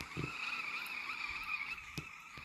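A car drifts in the Off the Road 2 video game, its tires skidding and squealing in a steady, moderately loud screech with a few brief bumps, and no voices.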